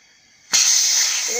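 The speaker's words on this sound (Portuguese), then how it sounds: "Tá enchendo aí a roda, galera." A bicycle tire being inflated with a powered pump or compressor: after a short quiet lead-in, a sudden loud, steady rush of air hisses on without a break to the end.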